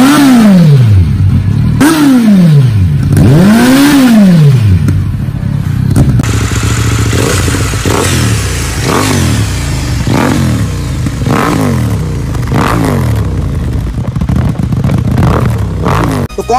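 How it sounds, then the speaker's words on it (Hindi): A KTM 790 Duke and a Kawasaki Z900 sport motorcycle rev loudly and repeatedly up close, with rising and falling engine sweeps that give way to steadier idling with sharp blips and throttle stabs. "तो सुन लीजिए इन दोनों बाइक का।"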